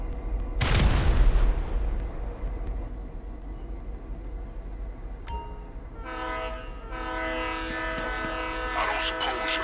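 A train in GTA 5 Online rumbles along with a sudden loud burst, then a long horn blast sounds over the steady rolling noise, fairly close.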